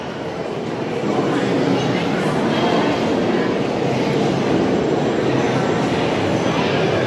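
Steady broadband rumble of a busy train station, with a continuous low roar of rail traffic and echoing hall noise throughout.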